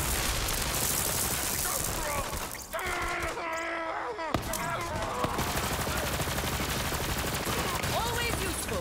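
Rapid, dense gunfire from Borderlands 3 during a mayhem 11 prison break fight with Amara, loud and continuous, mixed with groans, shattering effects and other chaotic game sounds.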